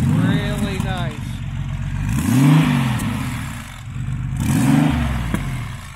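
A 530 hp Porsche 993 C4S Turbo engine idles loudly, revving up twice in smooth rising-and-falling swells, with people talking in the background.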